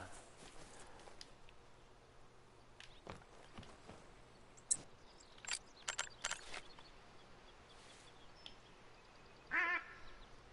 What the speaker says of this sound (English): the best part about ducks is it doesn't matter how often I shoot my gun, they're flybys